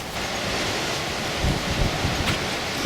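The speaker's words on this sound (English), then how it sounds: "So the wind seems to be picking up now" Wind picking up outdoors where a model aircraft is flown, a steady broadband rush buffeting the microphone with low gusty rumbles swelling midway.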